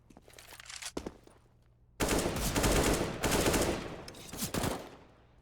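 Counter-Strike gunfire on the Mirage map during a professional esports match: a few sharp early shots, then a sustained loud burst of rapid automatic fire with footstep-like clatter, close and dense.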